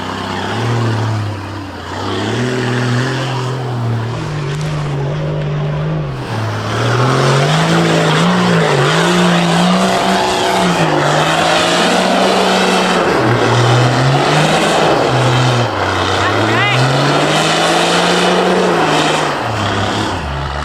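An off-road vehicle labours up a steep high-country hill climb, engine droning loud and close with rising and falling revs as the tyres spin and scrabble for grip, with no voices over it.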